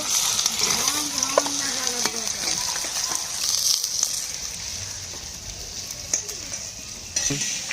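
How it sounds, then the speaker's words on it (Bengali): Fish fry in hot oil, giving a continuous close hiss and crackle with occasional clinks of a utensil against the pan; no voices. "মাছগুলো ভেজে নেব। মাছটা ভেজে নিয়েছি, তুলে নেব।"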